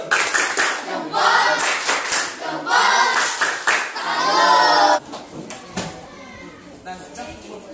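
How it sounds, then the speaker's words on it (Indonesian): Pupils in a classroom clap together in a group rhythmic pattern, loud bursts of fast hand claps in repeated phrases that ease off toward the end, with children's voices mixed in. "Tepuk tangan kelompok selalu."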